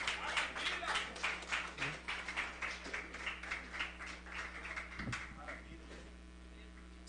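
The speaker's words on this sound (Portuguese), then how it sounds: "Aplauda o Senhor." Church congregation clapping in praise to the Lord, a steady run of rhythmic claps under a constant mains hum, with a brief voice and a soft thump near the end before the clapping fades.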